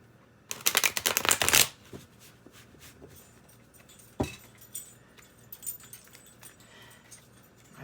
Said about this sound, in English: I apologize it takes me so long to shuffle